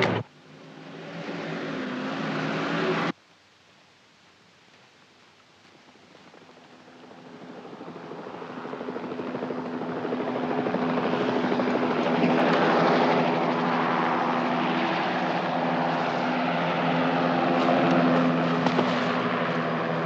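A helicopter drones with a steady rotor rumble that grows louder as it comes overhead, following a brief loud burst that cuts off abruptly.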